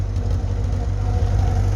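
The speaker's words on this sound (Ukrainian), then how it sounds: "Двигун працює справно, компресія добра" A VAZ 2105 car engine in good condition runs at idle close by: a steady, loud low-pitched hum with an even rhythm throughout. Nobody speaks.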